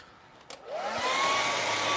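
A hair dryer switches on after a click and rises into a steady, loud whooshing hum as it dries acrylic paint on a canvas, running alone without talk.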